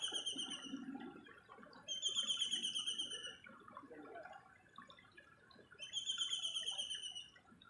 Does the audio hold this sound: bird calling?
yes